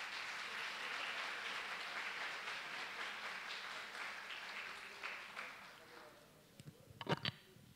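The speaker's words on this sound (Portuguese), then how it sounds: "Por favor, uma salva de palmas" Faint, distant applause at a seminar marking the FFP's 50th anniversary, greeting professor Cleise Campos, a steady wash of clapping that fades out, followed by a few sharp knocks.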